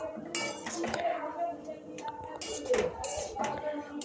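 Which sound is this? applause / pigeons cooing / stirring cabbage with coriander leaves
stirring cabbage with coriander leaves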